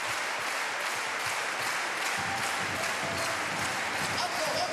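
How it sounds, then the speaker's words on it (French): Sustained applause from about 8,000 people in a basketball arena at a France vs Belgium Eurobasket 2009 qualifier, dense and continuous, with cheering mixed into the clapping throughout. "Et 8000 personnes vont applaudir pendant 2 minutes de jeu."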